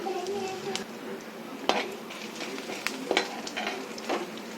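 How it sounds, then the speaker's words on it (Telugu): Chana dal, urad dal, peanuts and ginger frying in a pan for Chennai-style kara chutney, a steady close sizzle with scattered clinks and scrapes of a spoon against the pan. "కొంచెం శనగపప్పు, కొంచెం మినప్పప్పు, కొంచెం పల్లీలు తీసుకోవాలి. ఇప్పుడు ఇవి ఫ్రై చేసుకోవాలి."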